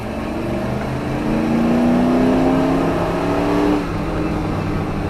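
A Ford F-150 pickup truck engine accelerating, heard from inside the cab: a loud, steady engine drone whose pitch climbs through the gear, then drops slightly as the revs ease off.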